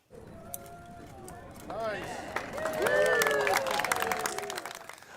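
Crowd applause at a ribbon-cutting ceremony for the new $90 million Baptist Health Breckenridge facility in East Louisville, a mix of clapping, cheering voices and chatter that swells halfway through and stays loud until the end.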